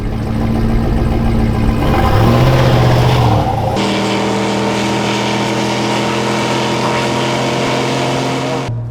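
A GM 6.2L V8 in a Chevy pickup truck roars loudly and steadily, its pitch dipping and rising once in a brief rev before settling back into a sustained, throaty drone.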